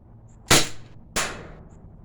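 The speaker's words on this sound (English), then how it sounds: "when you do shoot it, you can see the air coming out of your gun." Two sharp shots from a Glock 19 blowback airgun, about half a second apart, each a crisp pop with a short hissing tail, fairly close and alone against quiet room noise.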